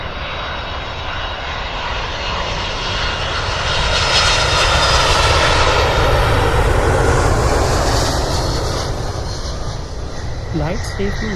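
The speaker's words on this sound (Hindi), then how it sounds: "हमारी जो फ़्लाइट थी वो बर्मिंघम से थी, Birmingham to Amsterdam. Easy jet हमारी फ़्लाइट थी" easyJet airliner engines on a one-hour flight from Birmingham to Amsterdam, a steady loud cabin roar that builds slightly midway and holds throughout, with faint voices mixed underneath.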